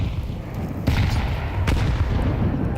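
Grenade blasts in a Counter-Strike 2 match on the map Ancient, with two sharp booms about a second apart that cut through a steady roar of game noise. No one talks.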